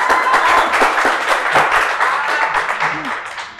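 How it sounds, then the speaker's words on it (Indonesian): Loud audience applause at a staged comedic presidential debate event greets the fifth candidate pair, a dense, sustained clatter of many hands that fades slightly toward the end. "Tepuk tangan ya dulu dong!"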